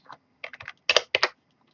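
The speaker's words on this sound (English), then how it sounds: "I think I'm typing all this stuff off screen." Keystrokes on a computer keyboard come in short, close bursts of a few taps each, with brief pauses between clusters, during game development work.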